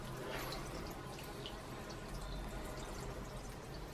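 Water splashes and trickles steadily from a watering can onto plants in a greenhouse, a soft continuous pour with faint drips and no voices.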